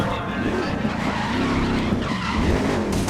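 A race car drifts in the GRID (2019) video game, with a loud, continuous tire squeal and skid over a droning engine for a few seconds.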